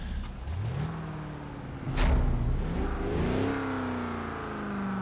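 Car engine in Forza Horizon 3 revs up, its pitch sweeping higher in a few rising pulls before settling into a steady high drone, loud and close, with no talking over it.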